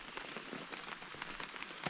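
Rain drums steadily on a single-layer camping tent in a pine forest, a dense close patter of drops with occasional sharper hits and no voices.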